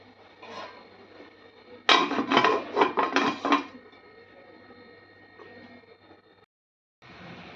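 A lid set on a pot of spinach cooking on a stove, a cluster of metallic clattering and scraping knocks over about two seconds against a quiet kitchen background hum.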